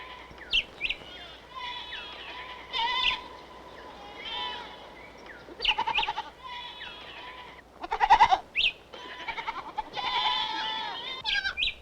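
Several goats bleat in repeated wavering cries, some close and loud, others fainter, over a quiet outdoor background.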